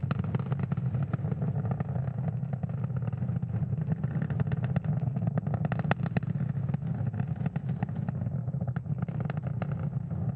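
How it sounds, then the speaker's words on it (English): Falcon 9 first-stage Merlin 1D engines roar steadily during launch ascent toward max Q, a continuous broadband rumble with crackle, loud and unbroken throughout. "the M1D engines on the first stage are about to throttle down in preparation for max Q"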